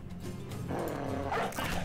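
A dog barking in the video game Battle Brothers, a few short barks over low game background sounds.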